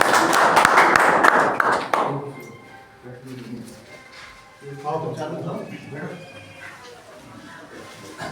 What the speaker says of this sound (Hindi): जोरदार ताली के साथ स्वागत करें